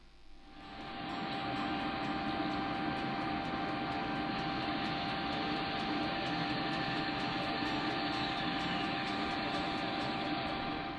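A bandsaw runs steadily, cutting the side cheeks of tenons on a wooden spindled gate; a loud, continuous whine and rumble holds for about ten seconds after a quick start.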